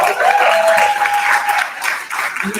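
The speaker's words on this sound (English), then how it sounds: "Let's keep clapping because she's so amazing" A business conference audience keeps clapping in a continuous, even wash of applause, with a brief tonal whistle or feedback line drifting through and a voice briefly rising near the end.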